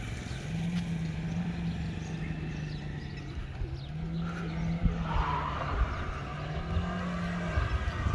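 Tata Nexon and Hyundai Creta petrol SUVs in a drag race outdoors, a steady engine drone with rising and falling revs and tyre noise, heard from a distance, with no talking.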